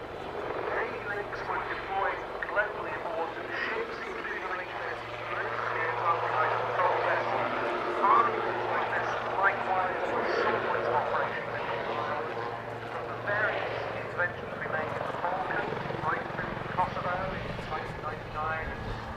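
A newly restored Lynx AH.7 army helicopter flies a display at Cosford Airshow, its steady engine and rotor drone continuing throughout at moderate distance, with someone talking over it.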